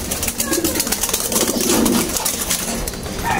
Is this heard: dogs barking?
no